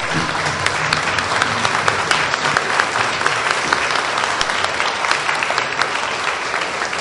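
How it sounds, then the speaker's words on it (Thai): Audience at a leadership training seminar standing to applaud and welcome a speaker, a sustained, dense wash of many hands clapping without break, loud and even throughout. "ยืนขึ้นปรบมือต้อนรับท่านอาจารย์ด้วยนะครับ"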